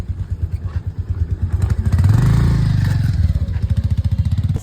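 A Bajaj Avenger motorcycle engine thumps with a steady, rapid pulse while riding, close and loud, swelling briefly as it revs mid-way before settling back.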